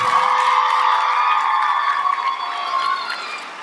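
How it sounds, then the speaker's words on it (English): A school spring concert audience applauds and cheers for band and orchestra students, a steady, loud wash of clapping with whoops and shouts lasting the whole stretch. "Let's give them another round of applause."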